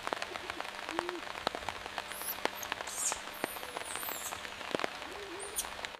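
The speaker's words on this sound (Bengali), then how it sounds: "বৃষ্টি শুরু হওয়ার সাথে সাথে ছোট বানরদের একটাই পরিকল্পনা ছিল, তাদের মায়ের কোলে লুকিয়ে থাকা।" Rain falls steadily on surfaces, a dense patter with scattered sharper drip taps, moderately quiet and continuous.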